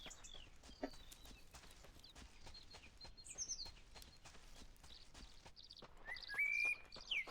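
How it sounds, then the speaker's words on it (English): Songbird melody in the survival shooter Deadside, bright whistled phrases repeating over steady ambient outdoor noise, with a louder, clearer trill near the end. "I got this songbird playing a beautiful melody in my ear"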